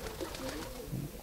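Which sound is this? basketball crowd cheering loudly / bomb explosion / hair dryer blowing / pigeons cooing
pigeons cooing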